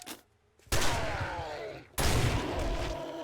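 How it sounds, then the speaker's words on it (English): Two loud shotgun blasts boom out about a second apart in 7 Days to Die, each a sharp broadband crack followed by a lingering, rumbling decay. "let's do a shotgun to the face"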